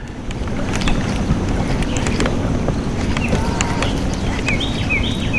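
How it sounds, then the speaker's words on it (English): Strong wind rushes and buffets continuously on a lake, a thick roaring noise with faint high chirps and taps in the background. "it's windy today."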